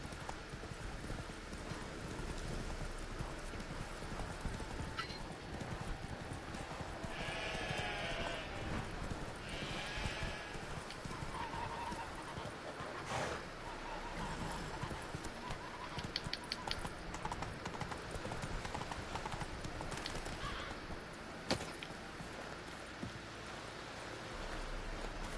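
Steady clip-clop of horse hooves trotting in The Witcher 3 video game under a continuous noisy background, with occasional faint voices.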